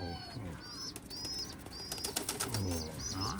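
Pigeons in a backyard loft coo softly with bursts of wing flapping and faint chirps, a close, quiet scene of several birds stirring.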